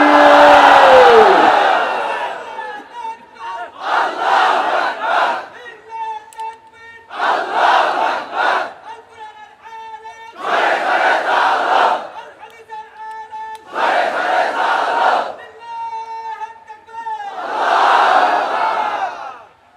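A large crowd at a religious sermon gathering roars back in unison to a takbir call, giving five or six loud chanted bursts in a steady rhythm with short pauses between, the first led by a single strong voice.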